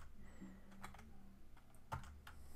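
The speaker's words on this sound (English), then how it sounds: "We'll do that by typing cp" Quiet, sparse keystrokes on a computer keyboard while entering a terminal command, a few soft isolated taps with one sharper click, over faint room hum.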